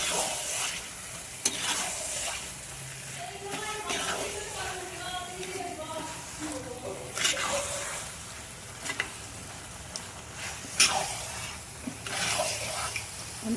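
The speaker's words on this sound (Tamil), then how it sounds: "அடுத்தது வந்து சிக்கன் போட்டு அதுலேயே நல்லா வதக்கிக்கலாம்." Chicken pieces sautéing in a pan for a village-style chicken kolambu, with a steady low sizzle, occasional stirring scrapes and bursts of crackle, heard fairly close throughout.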